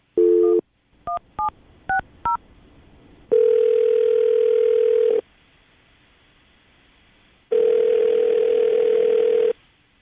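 An outgoing phone call: a short tone, a quick run of four touch-tone dial beeps, then two long, loud ringback tones separated by silence, heard clearly with no talking.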